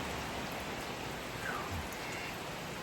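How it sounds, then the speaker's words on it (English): Steady rain shower falling outdoors, an even, continuous hiss of drops on surfaces close by, with no voices. "But it's coming a good shower."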